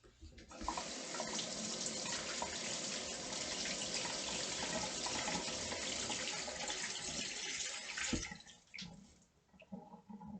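Freshly harvested wild grapes are rinsed under a running kitchen tap, giving a steady close splashing hiss of water over fruit for most of the span before it briefly breaks off and resumes.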